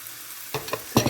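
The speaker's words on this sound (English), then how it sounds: "So these tomatoes have been cooking for about a minute. I'm just going to give it a little bit longer just to soften everything up." Tomatoes fry in a pan for a frittata, a steady soft sizzle under a few quick scraping stirs that come in two or three close bursts, with no voices.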